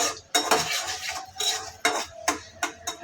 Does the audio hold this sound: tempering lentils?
yes